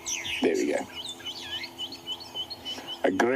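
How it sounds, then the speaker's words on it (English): Loud grey go-away bird calls in the morning bush at Djuma, a few sharp squawking bursts with other birdsong around, while someone speaks quietly over them. "One of the loudest members of the avian family out here"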